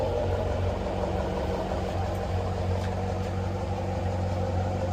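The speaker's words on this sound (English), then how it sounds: "Get you guys a little idle clip real quick." An SRT car engine idles close by, a steady low rumble with a smooth even drone and no talking.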